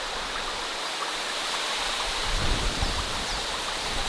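Distant flowing water in a forest, a steady broadband rush like a stream or small waterfall. It holds an even level throughout with no voices.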